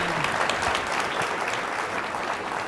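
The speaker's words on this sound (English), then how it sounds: "Let's give them both a round of applause." Audience applause fills an evening event honoring donors, a dense, steady roar of many hands clapping that holds at full strength throughout without letting up.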